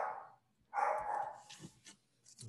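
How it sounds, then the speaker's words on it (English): A dog barks somewhere in the background, with a brief bark near the start and a louder, longer burst in the middle, followed by a few scattered yips, moderately distant. "Apologize for the barking in the background."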